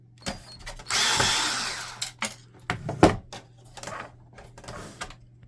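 Screws are being removed from an Epson WorkForce Pro WF-3720 printer, with a whirring power-driver burst, then clicks, rattles and plastic knocks close by, under a low steady hum.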